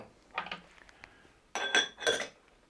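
A large ice sphere goes into a chilled rocks glass with a few bright glassy clinks and knocks, close and distinct, with brief quiet gaps between them.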